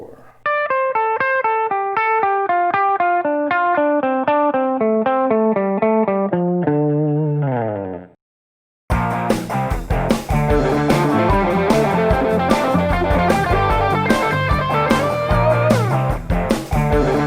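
An electric guitar plays a minor pentatonic pattern in triplets, a steady run of clean, evenly spaced notes that ends on a bend, then a burst of loud, distorted full-band guitar follows.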